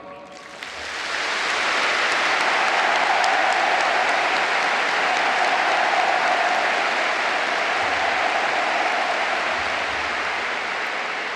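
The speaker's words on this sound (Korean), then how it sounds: "문재인 대통령에게 다시 한번 뜨겁고 열렬한 박수를 보내주시기 바랍니다" Loud, sustained applause from a large audience at a formal address by South Korean President Moon Jae-in in Pyongyang, swelling in quickly after a brief quiet start and holding as a dense, even roar of clapping.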